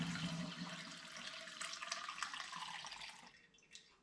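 Black honey porter wort pours into a glass demijohn through a sieve, a quiet, steady liquid trickle with small splashes that thins out near the end.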